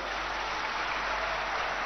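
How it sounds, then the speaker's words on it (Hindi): A political rally crowd in Sagar, Madhya Pradesh claps together in steady, dense applause, a continuous loud wash of hand claps with no individual voices standing out. "आप भी तालियां बजा के अभिनंदन करें"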